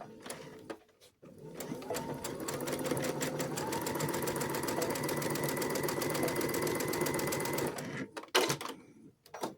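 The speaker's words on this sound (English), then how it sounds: "I'm going to stitch down the short edge." A sewing machine stitches down the short edge of a fabric ruffle in one continuous run of rapid, even needle clatter lasting about six seconds, close and clear, framed by a few handling clicks before and after.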